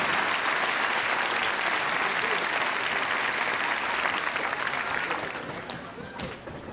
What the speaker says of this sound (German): gibt ihr noch mal einen Applaus